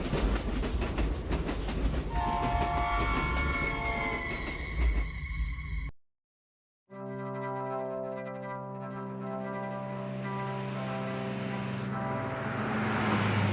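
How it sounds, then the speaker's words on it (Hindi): A train rushes along with rumbling clickety-clack and a sustained horn, a brief silent gap, then a long tonal horn-like blast with steady rolling rail noise, as a sound effect in a spooky story. "भुवन के ये कहते ही भागती हुई ट्रेन फिर से दिखने लगी।"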